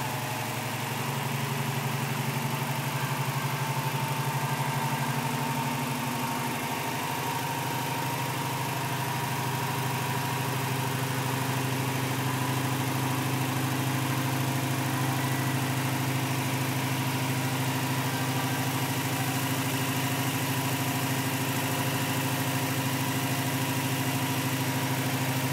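A rebuilt Toyota 22RE engine with a new cam, new head, double-row timing chain, new throttle body and cold air intake runs steadily during cam break-in, holding an even, continuous drone throughout with no talking.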